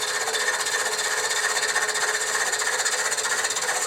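A lathe tool peels wood shavings from a spinning finial, giving a steady, even scraping hiss that runs unbroken throughout, with no voices.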